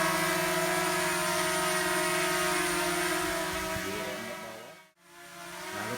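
A mini EX5 GPS drone with brushless motors flies outdoors in wind and rain, its steady high-pitched whine and propeller buzz holding loud and close before a sudden brief dropout and return near the end.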